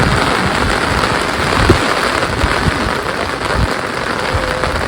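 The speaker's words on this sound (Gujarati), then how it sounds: "ફાઇનલી વરસાદ આવી ગયો" Rain comes down hard and steady, a loud close wash of spatter with a few sharper drips and knocks standing out briefly.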